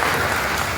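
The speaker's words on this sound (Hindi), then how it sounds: "एक बार ताली बजाएंगे।" A crowd at an education department meeting applauds in a brief burst of dense, steady clapping.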